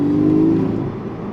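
Porsche 718 Boxster four-cylinder engine holding a loud, close rev that slowly fades over about a second.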